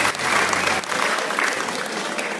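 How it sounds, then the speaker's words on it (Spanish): Audience applause for a book's author at a school anniversary event in Palenque, Chiapas, a steady dense clapping crowd filling the whole short stretch at moderate loudness. "Fuerte el aplauso para el autor del libro"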